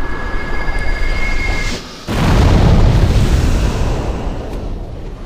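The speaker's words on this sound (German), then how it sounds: "Ah, Explosion." A loud explosion bursts in the Demon's Souls video game, a deep booming blast that cuts off a tonal game sound and then rumbles and slowly fades over several seconds.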